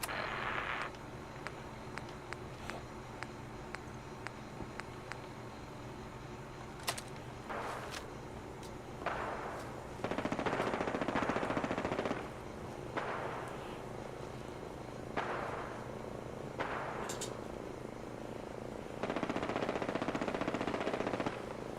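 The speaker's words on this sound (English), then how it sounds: "I don't know who you are over there doing all the shooting, but occasionally let your finger off the trigger." Video game gunfire from Fallout rattles in repeated sustained bursts and single shots, moderately loud and steady throughout with no talk over it.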